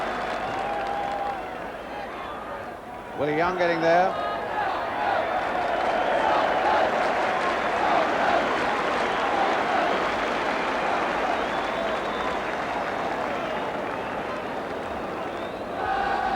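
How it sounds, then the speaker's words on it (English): A football stadium crowd keeps up long, steady applause for goalkeeper Pat Jennings after a save, a broad, distant roar of clapping under a commentator talking. "the crowd are still, 30 seconds after that save, still roundly applauding Pat Jennings"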